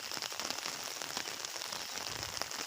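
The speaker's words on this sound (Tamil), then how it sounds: "மழை விடாமல் சாரல் மழை பெய்து கொண்டே இருக்கிறது" Steady drizzling rain in Tirunelveli, a continuous hiss of fine drops pattering on surfaces, even and unbroken with no voices.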